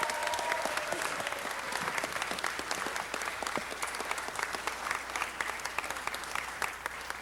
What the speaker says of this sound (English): those are the wonderful people from the Bureau of Engineering cheering in the back